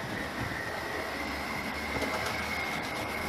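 An Airfix model railway locomotive hauling three coaches runs along the track with a continuous metallic whirr and rattle, close and steady throughout.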